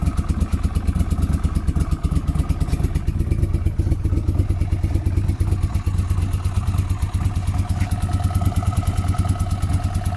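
A 1980 Honda CX500 motorcycle engine idles close by with a steady low throbbing pulse and light mechanical clatter, even and unbroken throughout.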